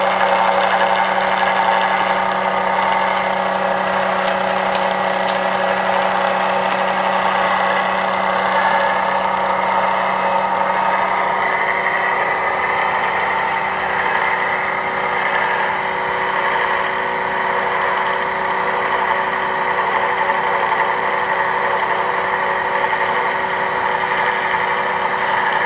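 A battery-driven electric motor coupled to a generator runs steadily, giving a continuous mid-pitched mechanical hum with a faint whine and light vibration, unchanging throughout and close by, with no voices.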